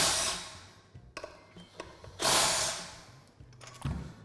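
A 12 mm socket wrench loosens the two bearing bolts on an automatic gearbox's output shaft, giving bursts of ratcheting clicks with short pauses between them, close up and with no talk.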